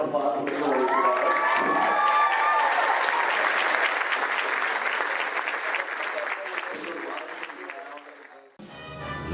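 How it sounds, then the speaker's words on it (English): A comic convention panel audience applauds and cheers for voice actor Maurice LaMarche, a loud, dense burst of clapping with whoops and shouts that fades gradually before cutting off abruptly. "let's give it a round of applause for Mr. Maurice LaMarche"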